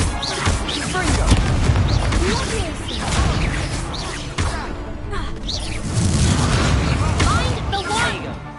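Confringo spells in Hogwarts Legacy erupt in repeated loud booms and crashes amid whooshing magic and combat noise, with in-game character voices shouting over the battle.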